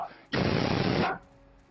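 Gunfire in the video game Jurassic The Hunted: a single loud, dense burst of shots lasting under a second, close and harsh, cutting off abruptly.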